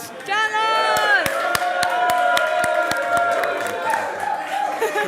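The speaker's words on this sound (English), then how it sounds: "Round of applause for John Laws, guys!" A livestream audience at a Planet Coaster launch event claps and cheers loudly, with sharp individual claps, whoops and a voice shouting over the crowd.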